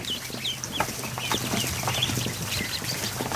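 A tiny Muscovy duckling peeps in a duck barn, high thin calls repeating steadily and close, with other fowl clucking faintly in the background.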